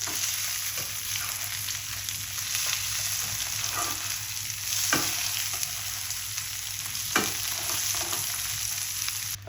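Chicken pieces sizzle and fry steadily in a pan, with a few scraping knocks as they are turned over partway through.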